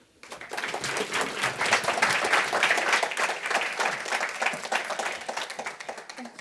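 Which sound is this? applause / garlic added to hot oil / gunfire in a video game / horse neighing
applause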